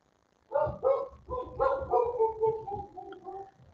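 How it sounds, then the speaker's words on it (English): A dog barks repeatedly in a quick, steady series of yaps, fairly close and moderately loud, with no other sounds around it. "my dog's barking because somebody's at the door"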